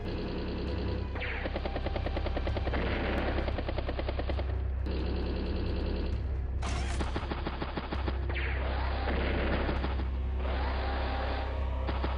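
The Battlecopter unit in the video game Advance Wars: Days of Ruin, heard as a loud, continuous rotor drone cut by repeated bursts of rapid machine-gun fire and a short high-pitched blip partway through.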